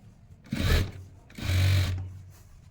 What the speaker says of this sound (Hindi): मशीन के एक पैर के गैप पे हमने एक सिलाई लगानी है।